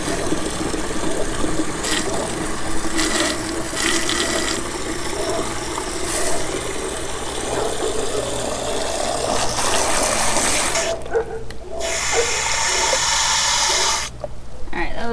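A garden watering can fills from a running water source, with a steady close rush and splash that cuts out briefly twice.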